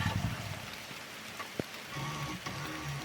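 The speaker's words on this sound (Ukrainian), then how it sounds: "Дощ, дуже дуже сильний дощ паде" Very heavy rain pours down outdoors, a dense steady patter and wash with a faint low rumble and one brief knock partway through, fairly quiet and without talk.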